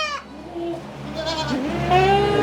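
A Sirohi goat bleats on a goat farm in India, a loud, wavering cry that comes near and repeatedly, with people talking nearby.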